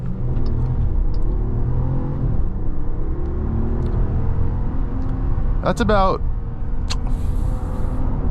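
A 2026 Jeep Grand Wagoneer accelerates at half throttle into traffic, its engine droning loud and steady from inside the cabin as the pitch climbs, while a person speaks briefly over it.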